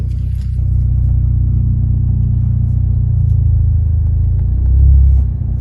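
A manual car drives along and then coasts, its engine a loud, close, steady low rumble that swells briefly near the end, with no speech over it.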